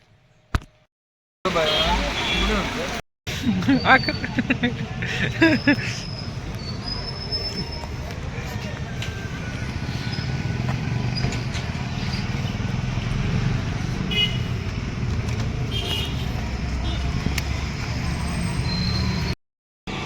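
A motorbike carries riders along a road, with a steady engine rumble and wind rush continuing for most of the ride, broken only by brief cutouts near the start and end.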